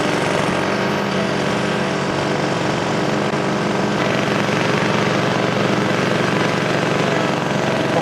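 An Ariens Arrow stand-on zero-turn mower runs at high revs with its cutting deck engaged, set to a 2 inch cut, giving a loud, steady, dense roar throughout with no talking.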